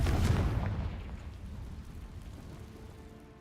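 A Confringo blasting spell explodes in the video game Hogwarts Legacy: a loud, deep boom bursting at once, then a rumbling tail that fades away slowly.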